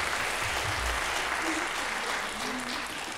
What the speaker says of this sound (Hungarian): Tapsot kérünk neki.